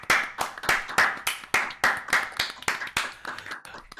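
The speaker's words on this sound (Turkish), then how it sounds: "Alkış." A steady run of sharp, close hand claps, roughly three per second, like a short applause effect with no voices.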